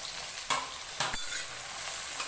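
Onions sizzle steadily in hot oil with cloves, cardamom, cinnamon and bay leaf for a mutton curry, with a few sharp spoon scrapes as the pan is stirred, close and alone.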